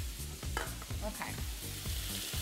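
Cheese frying in a pan gives a dense, continuous sizzle with crackling pops throughout, close and steady at a moderate level, with no talking.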